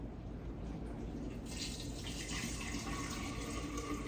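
Nut milk poured from an Almond Cow nut milk maker, a continuous liquid trickle and splash that grows fuller midway, close and fairly quiet, with no talking.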